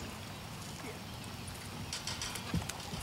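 A ridden horse's hooves clip-clop faintly and unevenly on the ground during a dressage lesson, with steady background noise and a voice talking in the background.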